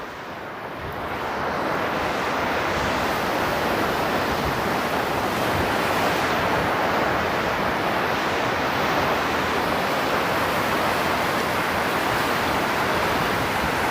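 Lake waves wash in at Toronto's Port Lands, a loud continuous roar of surf mixed with wind buffeting the microphone, steady throughout.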